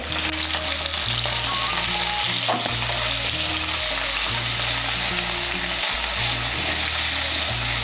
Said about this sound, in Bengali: হলুদের গুঁড়োটাকে মিশিয়ে নিয়ে ঢেঁড়সগুলোকে ভেজে নেব।